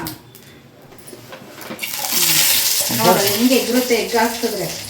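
An egg lands in hot oil and sets off a loud, steady sizzle that swells after a quieter start and keeps crackling close up, with faint kitchen noise underneath.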